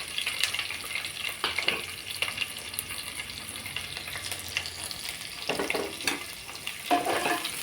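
Onion, green chilli and curry leaves fry in a pan, a soft crackling sizzle with intermittent scraping stirs and clatters of a spoon, fairly quiet and with no talking.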